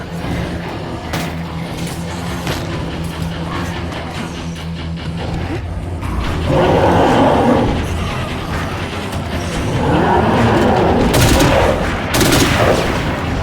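Gunfire in the video game State of Decay 2 rattles in dense bursts of rapid shots over a steady game soundscape, loud and close, with the firing intensifying toward the end.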